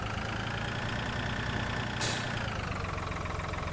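A tractor engine idles in the Farming Simulator 2013 video game, a steady mid-pitched drone with a brief hiss partway through, no voices.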